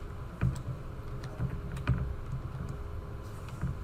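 Brisk typing on a computer keyboard while entering an equation into an online 3D calculator, a close series of clicky keystrokes with a few louder taps, no talking.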